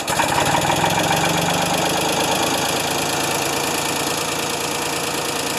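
An old Ford 2600 tractor's diesel engine idles with a steady, loud, close clatter and knock-like rhythmic pulsing that runs throughout without any voices.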